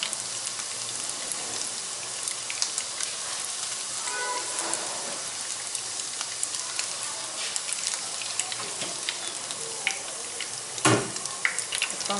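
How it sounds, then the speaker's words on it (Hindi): Egg-coated beef potato sticks shallow-fry in a pan with a dense, steady crackling sizzle and scattered sharper pops, close and continuous throughout, with no one speaking. "इसलिए इसको हल्का फुल्का फ्राई कर रहे हैं"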